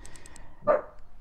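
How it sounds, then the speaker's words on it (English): One brief dog bark from a household pet indoors, standing out over a quiet background with faint repeating high-pitched game sounds. "I'm sorry about my dog."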